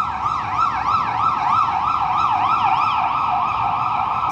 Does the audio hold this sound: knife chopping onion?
no